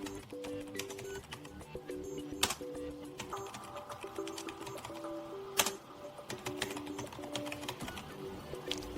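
A BIOS password is typed on a Lenovo Legion laptop keyboard, producing soft, uneven key clicks with a couple of sharper taps. Faint tonal beeps and a low background hum run under the clicks.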